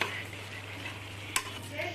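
Achari chicken gravy enriched with cashew powder is stirred in a pan, a steady soft sizzle and scraping with one sharp spoon clink against the metal midway, no talking over it.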